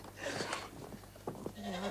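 A goat at a milking stall gives a few short, quiet bleats amid soft rustling and shuffling, with distant voices faint in the background.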